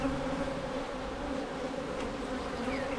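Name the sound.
swarm of honey bees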